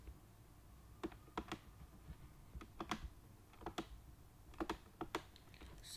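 A computer keyboard is typed at an irregular, halting pace during a Linux terminal session: scattered sharp key clicks in short bursts over a faint steady background hiss, with no talk.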